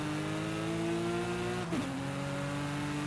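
A Porsche 911 GT2 RS races in Forza Horizon 5, its engine holding a steady high drone before a quick dip and shift in pitch, then droning on, with no voices.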